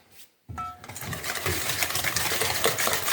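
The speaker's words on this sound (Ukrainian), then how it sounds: "Далі інтенсивно це взбиваємо, розмішуємо, змішуємо." Waffle batter being whisked and mixed vigorously in a bowl: dense, continuous scraping and rattling strokes, loud and close, starting abruptly after a brief quiet moment and keeping a steady busy rhythm throughout.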